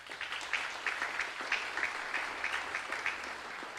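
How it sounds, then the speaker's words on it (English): Audience applause at a public safety awards ceremony, a steady patter of many hands clapping at moderate distance, fairly quiet and without talk over it. "Give yourselves a round of applause."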